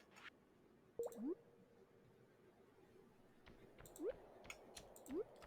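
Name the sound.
bat sound in the Stardew Valley video game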